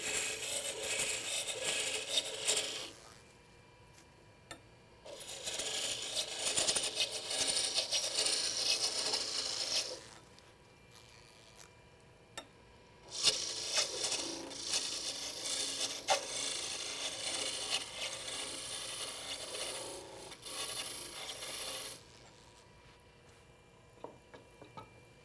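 Wood spins on a lathe as a roughing gouge cuts it down, producing loud rasping, scraping cutting passes in several long bursts separated by quieter pauses with the lathe humming.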